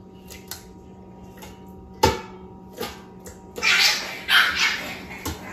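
Puppies in a kennel yelp and bark in short bursts, loud and close, with some splashing or clattering between them.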